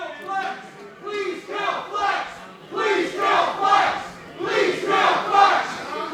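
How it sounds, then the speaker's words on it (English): Wrestling crowd in Paulsboro roaring and chanting in rising and falling waves of loud, hostile yelling, many voices overlapping throughout with no break. "And here you hear the sadistic crowd in Paulsboro"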